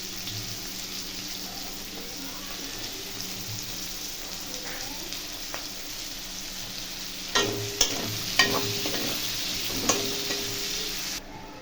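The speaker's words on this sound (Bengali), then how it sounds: "এই কুচনো পেঁয়াজটা এর মধ্যে আমি দিয়ে দেবো।" Chopped onion frying in mustard oil in a pan gives a steady, close sizzle throughout, with a few sharp utensil knocks and scrapes from stirring near the end.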